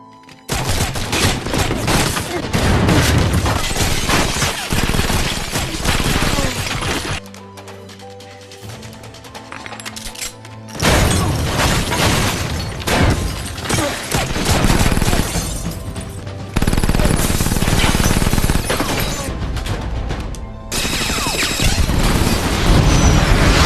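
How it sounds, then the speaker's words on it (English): A movie shootout plays out with dense bursts of gunfire, booms and crashes filling most of the stretch, broken by a quieter lull with a low tone before the shooting resumes loudly. "They clash and begin shooting at each other."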